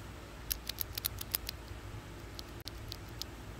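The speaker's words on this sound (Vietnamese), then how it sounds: "Còn cái mà mình mua mới sáng nay này, nó là Blue, nó sẽ có tiếng click click." Cherry MX Blue switches on a Keychron K8 keyboard, held close to the mic, give a quick run of sharp, crisp clicks, then a pause and a few more scattered clicks, with no voices.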